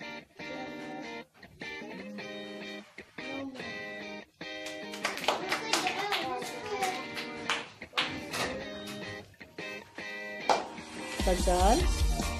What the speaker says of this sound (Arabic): صفقوا لها.